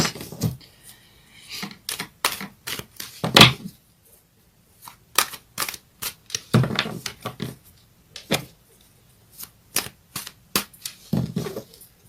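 Tarot cards are shuffled and handled close by, with crisp riffling bursts, sharp slaps and snaps as cards are laid down, and scattered irregularly across a quiet background without speech.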